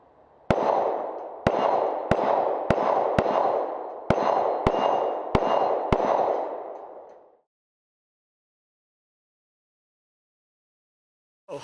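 Beretta M9 pistol fired in a string of about nine sharp, loud shots at uneven intervals, each followed by a brief ringing tail, then silence.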